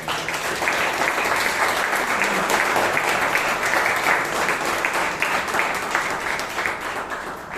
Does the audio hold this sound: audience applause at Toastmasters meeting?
yes